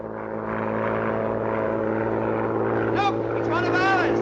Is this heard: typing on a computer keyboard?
no